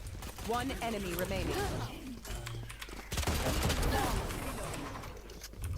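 Gunfire from a shooter video game, a dense rattle of shots running through most of the stretch with voices talking over it.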